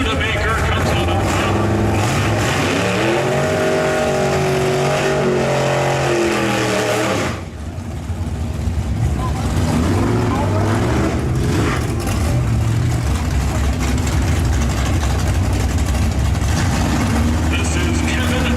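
Classic cars, including a Studebaker, race at a night event, with loud engines roaring and revving throughout and a change in pitch as they pass, while an announcer talks over the noise.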